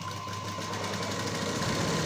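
Sewing machine stitching fabric that has been ironed and cut, a fast steady mechanical whir with a continuous even rhythm, close and moderately loud, with no talking.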